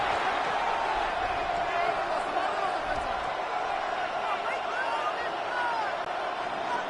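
A Madden football video game stadium crowd keeps up a steady, dense roar with scattered whoops, under continuous play-by-play commentary.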